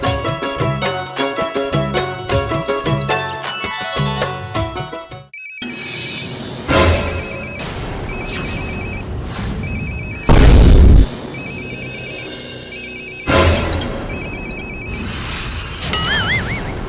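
A mobile phone rings loudly with a melodic ringtone, first as a dense musical passage, then in repeated bursts punctuated by heavy booms and crashes, close and prominent throughout.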